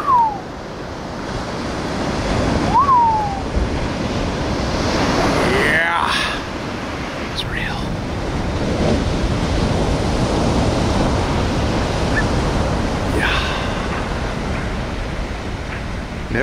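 Heavy surf at The Wedge roars and crashes continuously, loud and broadband. People talk briefly over the surf, and brief shouts come through now and then.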